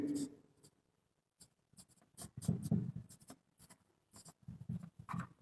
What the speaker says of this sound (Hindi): तो इसमें हम लोग लिखेंगे